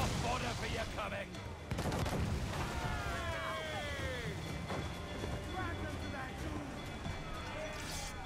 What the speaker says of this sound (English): Man the guns!